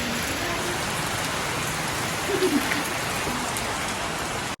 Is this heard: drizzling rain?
yes